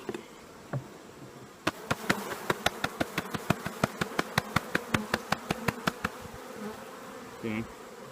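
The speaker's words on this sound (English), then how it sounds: "There's actually a bunch of drones hatching out of this guy." Honeybees buzz around an open hive frame where drones are hatching from a damaged comb, under a fast run of sharp, evenly spaced taps or clicks that lasts several seconds.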